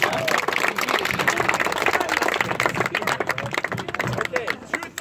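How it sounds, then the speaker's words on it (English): Applause and clapping from a crowd greeting a musket firing squad of seven outdoors, steady and close throughout, mixed with voices talking over it. "Can I have a round of applause for a wonderful squad?"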